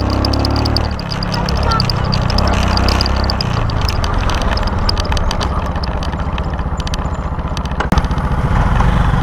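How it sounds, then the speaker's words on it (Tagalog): A motorcycle engine labouring uphill on a long ride in Bataan, a close, loud, continuous droning rumble with a strained throbbing pulse, heavy wind noise throughout and a brief thump near the end. "Ang hirap na hirap yung makina ko."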